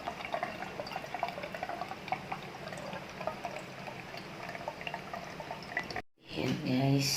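Drinking water being refilled into a tumbler, a steady close pour and trickle of liquid for several seconds before the sound cuts briefly and returns louder with a voice speaking over it.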